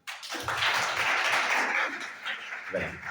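An audience at a talk on self-defence and careers gives a short burst of applause, a fairly faint wash of clapping that swells, dips and trails off.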